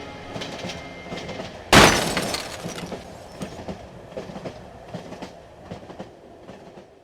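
A train in the horror video game Cry of Fear rumbles steadily along the rails with rhythmic clattering wheels, broken by one sudden loud crash near the start, with no speech.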